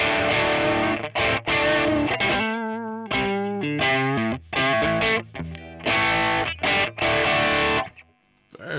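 An electric guitar played through the Hiwatt amp model of a NUX MG-300 rings out in loud, gritty chords and sustained notes with slight distortion, separated by short pauses and ending on a decaying note.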